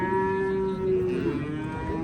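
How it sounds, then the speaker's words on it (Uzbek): A three-month-old calf at a livestock market gives a single sustained moo, loud and close, with a faint crowd murmur behind it. "3 oylik buzoqcha."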